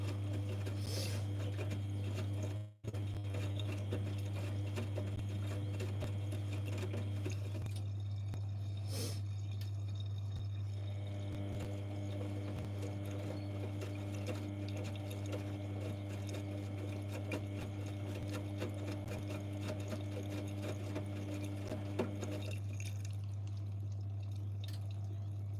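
A Zanussi IZ161W washing machine runs steadily with a strong continuous low hum and faint intermittent water sloshing and clicks throughout, no voices.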